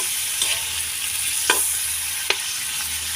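Squid fries in a pan with a continuous close sizzle, broken by a few quick scrapes of stirring.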